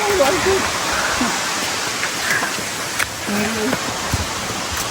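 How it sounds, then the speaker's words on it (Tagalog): Heavy rain pours steadily in a covered spot near a waterfall area, a dense continuous roar of falling water with a few brief louder drops and faint voices underneath. "Grabe yung ulan guys."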